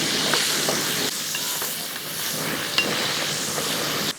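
Tomatoes sautéing into a crab curry in a pan hiss with a loud, continuous sizzle, broken by soft stirring scrapes and a couple of clanks from the spoon.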